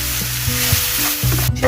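Mixed vegetables softening in a pan for a Sylheti vegetable bhaji, a loud, continuous close sizzle with faint stirring and a low background hum, no voices.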